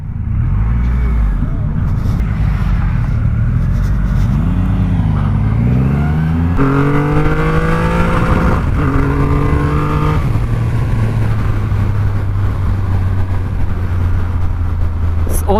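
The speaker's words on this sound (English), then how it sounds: "When you rev it, the bike literally goes left." A Triumph Rocket 3 motorcycle with a 2500cc engine revs repeatedly, its deep tone swooping up and down in several blips before settling into a steady low idle, loud and close.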